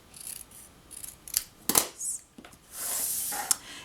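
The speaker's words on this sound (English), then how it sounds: "So let's grab our paper snips and just cut down the middle." Paper snips cutting through paper, a run of crisp short snips and rustles followed by a longer sliding cut, close and fairly quiet with no voices.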